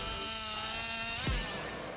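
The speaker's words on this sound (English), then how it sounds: "this chainsaw becomes a symphony of cutting power, turning giant logs into exquisitely crafted wooden pieces" A large chainsaw cuts through giant logs, turning them into crafted wooden pieces. Its loud, steady buzz holds throughout, with a brief heavier bite and a falling pitch partway through.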